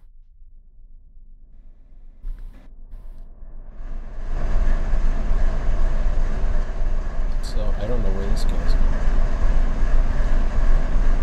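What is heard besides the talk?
trains running in a video game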